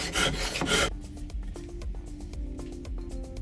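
Hand-forged iron file being worked to its final profile with files, a loud burst of rasping for the first second, then quieter scattered scraping and light metallic taps.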